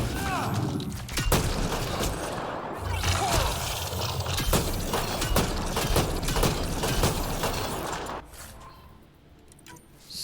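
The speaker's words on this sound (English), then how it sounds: "So much shotgunning." Shotgun blasts in the video game Mass Effect Andromeda, a series of sharp booming shots with clattering mechanical action over several seconds, mixed with game sounds, then dropping to a quieter lull near the end.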